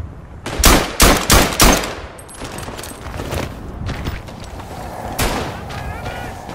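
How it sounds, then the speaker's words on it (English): Gunfire in the World War I shooter Verdun: a loud, close burst of rapid shots opens, then more distant rifle and machine-gun fire and booms continue in the background. "The guns were pretty much the same as before, but with better sound design."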